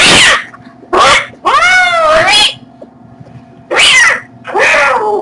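A small barn kitten meows loudly and repeatedly, four or five drawn-out, rising cries with short pauses between them, close up and alone.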